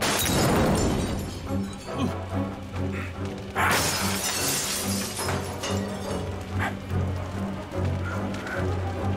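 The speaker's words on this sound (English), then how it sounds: "I throw it through that window, you into that one, and we're out of here." Glass windows shatter loudly as an object is thrown through, with bursts of crashing, tinkling breakage over a dense, busy dramatic background, a second burst of smashing following a few seconds later.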